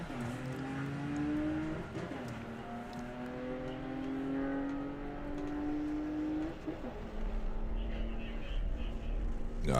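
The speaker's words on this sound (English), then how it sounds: "You can hear Phil feathering the throttle there." A drag racing car at Bug Jam launching down the strip, engine note rising and dipping as the driver feathers the throttle, revving loud and close then fading with distance.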